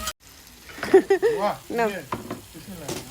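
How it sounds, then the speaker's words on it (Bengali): Spices sizzle and fry in a pot over a wood-fired stove, a crackling hiss heard under voices talking nearby. "পাতিলের মধ্যে একটুখানি এক দুই মিনিট ভাইজে মশলাগুলা দিয়ে দিব না"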